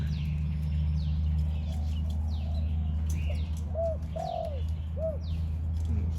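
A few soft, rolling dove coos sound in a short series over a steady low rumble, with faint bird chirps in the background.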